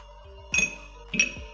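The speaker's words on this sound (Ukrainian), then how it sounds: "Додаю лід до келиха" Ice cubes dropped into a cocktail glass while a Bloody Mary is prepared, giving two separate bright clinking bursts about half a second apart, close and clear against a quiet kitchen background.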